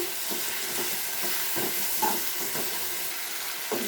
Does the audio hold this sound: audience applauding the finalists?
no